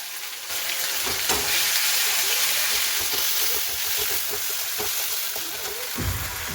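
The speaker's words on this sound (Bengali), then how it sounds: "এবার আমি পেস্ট করা পেঁয়াজ কাঁচা লঙ্কা এবং রসুন একসঙ্গে আছে এটা আমি দু তিন চামচ দিয়ে দেবো" A paste of onion, green chilli and garlic fries in a hot pan, making a loud, steady close-up sizzle that rises sharply as it hits the oil, with occasional spatters and no voices.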